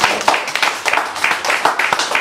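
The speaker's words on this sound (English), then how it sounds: "More applause, please, for Agnes Meadows." Audience applause after a poetry performance, steady dense clapping from many hands at a continuous even level with individual sharp claps standing out, heard without talk.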